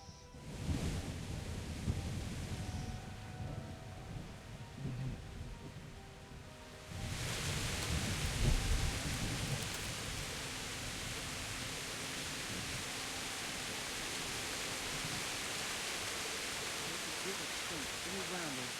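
Heavy rain pours in the medieval open world of Kingdom Come: Deliverance. Voices and a muffled rumble come first, then a dense, loud hiss of rainfall takes over and holds steady to the end.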